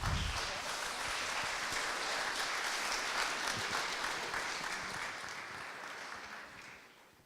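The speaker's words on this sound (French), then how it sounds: "Vous pouvez les applaudir" Sustained audience applause at an architecture awards ceremony in Paris, a dense, even wash of clapping that holds steady for several seconds before gradually tapering off, with no talking over it.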